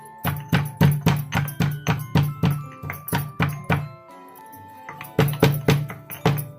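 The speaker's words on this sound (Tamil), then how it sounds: "நீங்களும் வீட்டில் கல் இருந்தால் இந்த மாதிரி இடிச்சுக்கோங்க" Heavy rhythmic thuds of a stone pestle pounding ingredients for coconut milk rasam, about a dozen quick strikes, a short pause, then another burst of pounding, close and loud.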